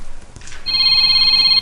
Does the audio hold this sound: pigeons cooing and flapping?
no